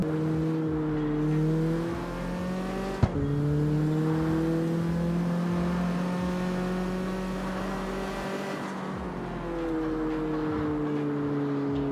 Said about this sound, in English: the car is too loud